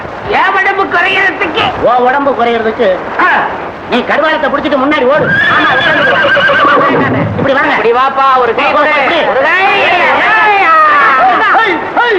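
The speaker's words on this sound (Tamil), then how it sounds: "என்னங்க இது தேசிங்க ராஜா மாதிரி எங்க அப்பா குதிரை ஏறிட்டு போறாரு" A horse being ridden in a classic Tamil film scene neighs repeatedly with loud, shrill whinnies, clip-clop hooves and crowd chatter mixed underneath.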